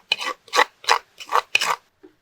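Kerala-style squid and crushed coconut paste stir fry being stirred in a pan, five distinct scraping strokes at a steady rhythm, close and clear, with no talking.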